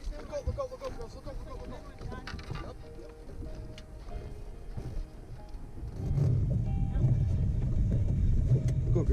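A fishing boat's outboard motor runs on a lake, a low steady rumble under voices and splashing that swells louder and denser partway through.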